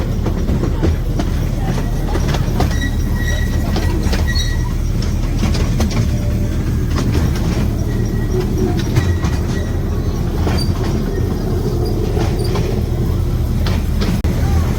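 A small park ride train at Conkers park runs on its track with a loud, constant rumble. Wheel clatter, metallic clicks and faint squeals come through it, and voices can be heard now and then.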